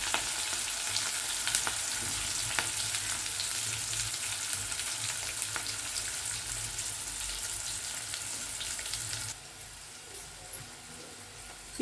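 Onions and green chillies frying in a pan, a loud continuous close sizzle with light stirring clicks, dropping abruptly to a quieter hiss near the end, with no talk.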